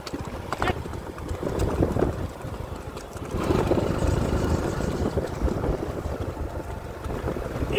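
A Sindhi horse walks with steady, rhythmic clip-clopping hooves close by, under outdoor wind noise while someone talks over it.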